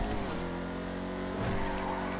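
A car drifts in a racing video game with a dense, continuous engine roar and tire noise, loud and steady throughout with slight surges.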